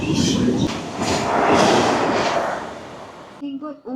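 A Korean express train makes a loud, steady rumble with broad rushing noise that swells mid-clip, then drops away as a voice briefly speaks near the end.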